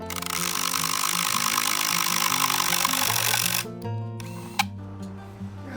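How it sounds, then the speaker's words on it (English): A power drill bores plug holes into the dovetail ends of a wooden woodshed's timbers on site, a loud steady whine for several seconds that cuts off abruptly, followed by quieter mechanical clicks and handling noise. "Next, I drill a hole for a plug in each dovetail end"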